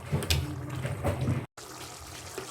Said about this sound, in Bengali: এবার আমি এর ভিতরে সেদ্ধ করে রাখা চিকেনের জলটা দিয়ে দিলাম